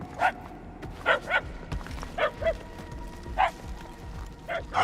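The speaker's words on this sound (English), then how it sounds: "If you're trying to follow the barks" A dog barks repeatedly in the Guardians of the Galaxy video game, with about eight sharp barks in uneven bursts at moderate distance over low background ambience.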